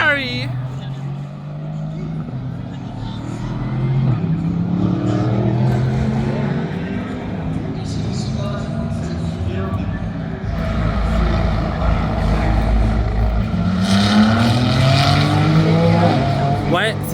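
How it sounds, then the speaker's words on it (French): A Ferrari GT race car passes at Paul Ricard, its engine rising and falling in pitch over a constant rumble of track noise. Voices talk excitedly over the engine throughout. "It's a Ferrari!"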